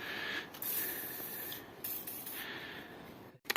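WD-40 aerosol spraying onto the bolts of a rear wheel bearing, close and fairly quiet, with short hissing bursts separated by brief pauses and a sharp clatter near the end.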